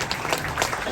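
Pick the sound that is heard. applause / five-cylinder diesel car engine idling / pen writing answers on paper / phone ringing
applause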